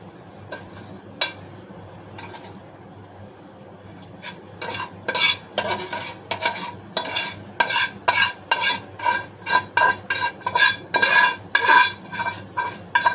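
Fried vermicelli and dry fruits in ghee being stirred into milk for kheer, a quiet start followed by a run of rhythmic metal spoon scrapes and clinks against the pot, close and fairly loud, with faint sizzle beneath.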